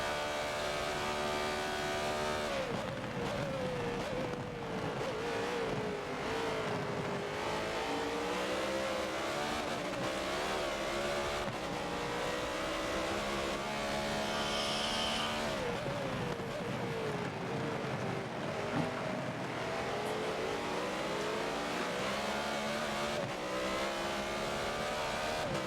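Race cars hot lap at Daytona in a racing video game, with engines roaring continuously and loudly, rising and falling through revs and gear changes as cars pass, without any talking.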